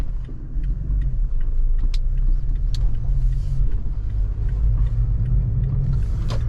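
A 2020 Toyota Tacoma 4x4 pickup drives along with a steady, loud low engine and road rumble heard from inside the cab, with a few faint clicks and rattles over the drone.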